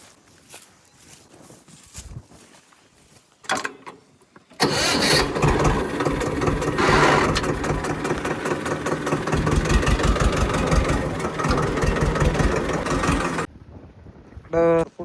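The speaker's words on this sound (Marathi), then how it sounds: "थांबा, ट्रॅक्टर पुढे घेतो." Farm tractor beside an onion field starts up after a few faint sounds and runs loud and close with a rough, steady mid-pitched roar for several seconds, then cuts off abruptly. Brief voices come before and after.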